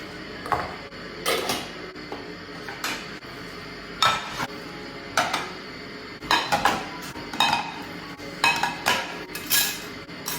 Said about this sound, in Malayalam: പാത്രങ്ങളെല്ലാം കഴുകി വെക്കാനുണ്ട്